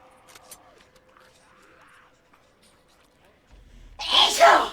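A single loud, close sneeze bursts out near the end, after a stretch of faint talk and quiet background sounds while a Days Gone game plays.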